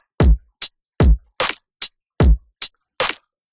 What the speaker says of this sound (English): Pretty solid drum loop.